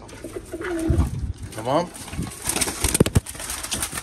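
Pigeons coo in low, rolling calls close to the microphone while someone talks over them outdoors during a bird hunting outing.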